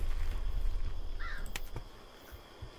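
Crows caw on a bridge in the video game Sign of Silence. A few harsh caws sound fairly close over a low rumbling background, with one clear call in the middle.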